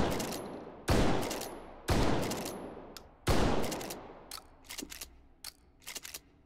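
Shotgun fire in the VR game Hot Dogs, Horseshoes & Hand Grenades: three loud, close blasts roughly a second apart with decaying tails, followed by softer mechanical clicks and clacks of handling.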